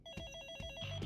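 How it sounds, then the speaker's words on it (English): A telephone ringing in the video game Hi-Fi Rush, a rapid trilling bell heard faintly with low thuds from game sounds beneath it. "Phone's ringing."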